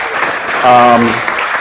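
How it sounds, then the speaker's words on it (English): A room full of people at a community organization gathering clap steadily in a close, full round of applause, with a brief voice rising over the clapping midway. "Let's give her a round of applause."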